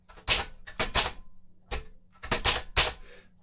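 Keys strike on a Consul 232, a Czech ultra-portable typewriter, in quick close bursts of clacks with short pauses between groups, loud and dry with no voices.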